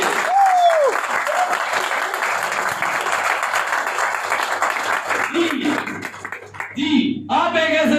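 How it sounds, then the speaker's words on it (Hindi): An audience claps loudly and steadily at a Modicare gathering in a hotel hall in Nawalgarh. The applause thins briefly near the end, then swells again, with voices mixed in. "तो बजाइए अपनी शानदार वाली तालियां अपने लिए"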